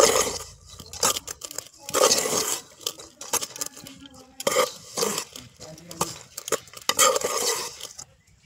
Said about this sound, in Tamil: இப்போ இதை நல்லா கிளறிக்கலாம்.